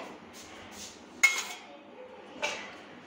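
A saucepan and dishes knocked and set down in a home kitchen while making neem soap, with a couple of sharp metallic clanks amid soft handling noise, close and moderately loud.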